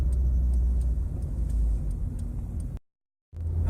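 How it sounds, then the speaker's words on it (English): A Mazda 626 cruising in second gear gives a steady low cabin rumble with a faint regular ticking, cutting out briefly near the end before resuming. "So I'm currently cruising on second gear with 50"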